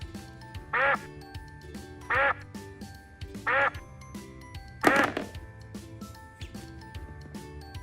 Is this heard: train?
no